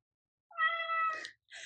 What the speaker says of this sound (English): So there we have Percy meowing on.